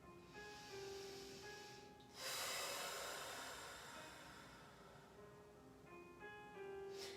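A big, deep inhale taken during a hip and shoulder stretching class, a steady breathy hiss that swells louder partway through and then eases off, alone with no talk.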